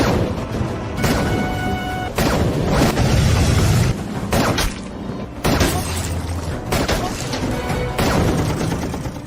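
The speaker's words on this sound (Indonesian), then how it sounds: "meledakkan tank-tank pasukan Irak dengan senjata RPG yang mereka miliki" Heavy booms and crashing blasts from tanks being destroyed by RPG fire in an Iran–Iraq war film, a dense series of loud explosions separated by brief gaps, with faint voices mixed in.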